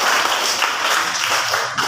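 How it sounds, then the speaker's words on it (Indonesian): Students in a classroom clap their hands in brief, dense applause, a soft, continuous patter heard close with no talking. "Berikan tepuk tangan dulu"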